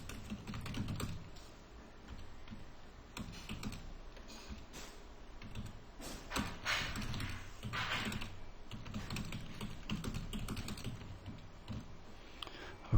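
Typing on a computer keyboard while entering a name into a linguistics software tool, a steady run of soft key taps with a low background hum, continuous and close throughout.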